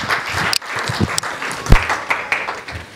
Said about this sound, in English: Can you give my president a round of applause?